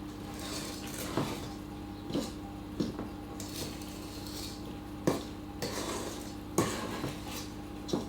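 A spatula scrapes and taps against a mixing bowl as white chocolate is folded into blondie batter, soft periodic knocks and scrapes in a quiet kitchen with no talking.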